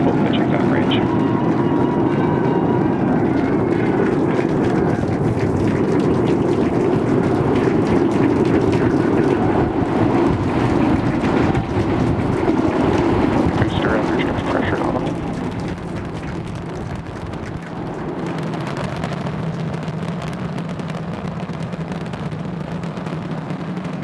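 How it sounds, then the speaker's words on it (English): SpaceX Starship on its eighth test flight thunders as the booster's 33 Raptor engines fire, a loud, dense, continuous broadband roar that eases slightly partway through, with talk faintly beneath it. "We are seeing 33 out of 33 Raptor engines ignited."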